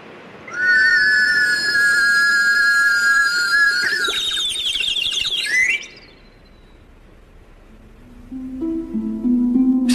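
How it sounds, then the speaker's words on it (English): A loud, bright whistle trills and warbles like bird song, sliding in pitch before cutting off, from a cup with a warbling whistle lowered into a tank of water; after a brief lull, lower tonal whistling returns. "Just a cup attached to a warbling whistle being lowered into a tank of water."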